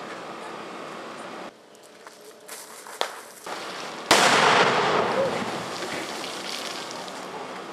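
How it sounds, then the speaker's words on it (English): A Mark 26 fragmentation grenade detonates in a Vietnam-era combat demonstration, a single sharp blast followed by a loud, sustained rumbling wash of debris and noise that slowly fades. "we're going to just let you see what a Mark 26 grenade looks like in action"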